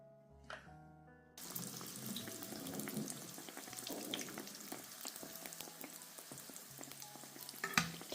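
Petulla dough frying in hot oil and basted with a spoon, a dense steady sizzle filling the clip after a quieter start, with scattered clinks and scrapes of the spoon against the pan.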